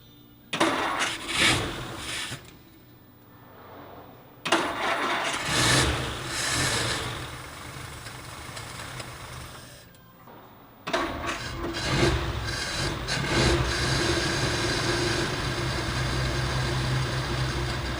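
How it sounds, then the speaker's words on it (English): A 1950 Ford Coupe engine cranks and catches in bursts, cuts out, then starts again and settles into a loud, steady rumbling idle. "So now we got the car fired up and we're breaking it in"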